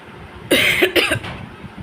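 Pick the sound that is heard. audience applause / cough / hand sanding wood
cough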